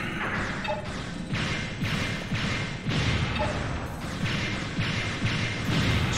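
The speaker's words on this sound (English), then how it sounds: "Explosions." Explosions in the video game Mega Man Legends 2, a rapid series of heavy booming crashes and thuds, roughly one every second, over a rumbling background.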